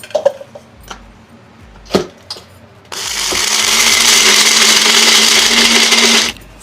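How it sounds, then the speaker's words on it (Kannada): A kitchen mixer grinder whirs steadily for about three and a half seconds while grinding a cup of jaggery with five or six cardamom pods, starting abruptly after a few soft clicks and handling sounds, then cutting off. "ಮಿಕ್ಸಿ ಮಾಡ್ಕೊತಾ ಇದ್ದೀನಿ"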